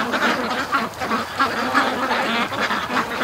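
A duck quacking near a creek, rapid repeated nasal calls with a few other fowl mixed in, close and fairly loud with no talking.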